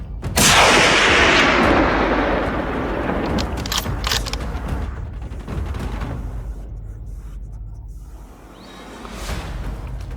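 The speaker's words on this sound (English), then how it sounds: "Cool, calculated shots rang out." Gunshots fired at wild boars outdoors: a loud, booming blast followed by a long rolling echo and sweeping noise that fades, with a few softer reports later.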